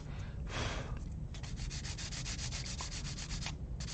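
Close, continuous scratchy rubbing as sandpaper works a Gunpla plastic model kit part, fast even back-and-forth strokes with a short break near the start and no voices.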